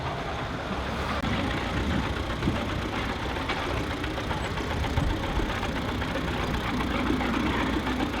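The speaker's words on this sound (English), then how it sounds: "Apparently it's an HD5 track. 1949, David Johns, Ford 60 engine conversion" A 1949 HD5 crawler tractor fitted with a Ford 60 engine conversion runs steadily at an agricultural steam and country show, its engine chugging continuously and fairly loud with a knocking idle character and no talk.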